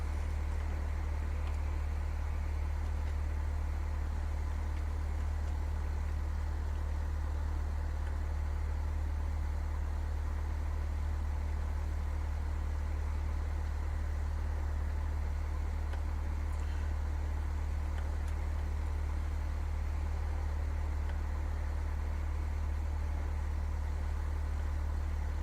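A Falco F8L light aircraft engine at zero throttle in Flight Simulator X, a steady low idle drone with a constant deep hum running unbroken and fairly quiet throughout, no voices.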